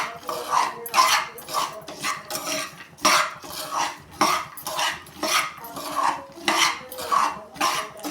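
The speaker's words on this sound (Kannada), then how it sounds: "ಚೆನ್ನಾಗಿ ಗರಿ ಗರಿಯಾಗಿ ಹುರಿಬೇಕು ಇದನ್ನು." Peanuts roasting crisp in a pan, stirred in a steady rhythm that gives repeated rattling scrapes and dry clatter of nuts against metal, close and fairly loud.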